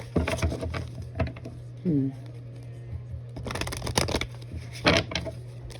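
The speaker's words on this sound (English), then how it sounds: "One more shuffle." Oracle cards are shuffled in quick riffling bursts, with a short voiced sound in between, over a steady low hum and faint background music.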